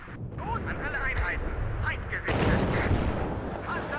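Incoming enemy artillery fire in the WARNO strategy video game: dense, continuous rumbling barrages and crackling impacts pile up loudly, with a brief dip before a heavier surge, under some voice-like sounds.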